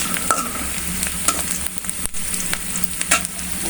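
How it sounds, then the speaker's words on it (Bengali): Onions fry in a pan for a home-cooked soybean, potato and egg curry: a dense, steady sizzle close up, broken by repeated scraping stirs of the spatula, with no voices. "এখন এই যে পেঁয়াজ ভাজা হয়ে গেছে"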